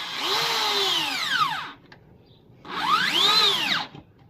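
A power drill with a star bit drives self-drilling screws into a wooden planter table in two sustained, close bursts, its pitch sweeping as each screw bites and seats, with a short pause between them.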